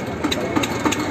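A tractor engine idles nearby at a farmers' protest at the Red Fort in Delhi, a steady low rumble with a regular chugging pulse repeating about every quarter second.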